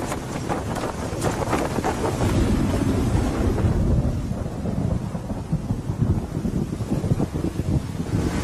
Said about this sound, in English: We've got a storm coming up at the moment.